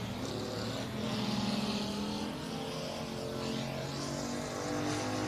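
A race car at a championship-night event at Heart O' Texas Speedway roars down the backstretch. Its engine gives a steady, loud, sustained drone that swells slightly as it passes, with no talk.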